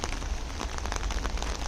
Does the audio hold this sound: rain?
yes